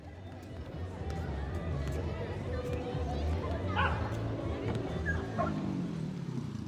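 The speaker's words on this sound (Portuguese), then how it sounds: "E se escutam vendedores ambulantes, crianças brincando e cachorros latindo." Dogs bark and yip in a busy Mexico City plaza, with a steady crowd murmur, street vendors and children in the background. A few barks stand out briefly over the din. Voices and bustle run throughout.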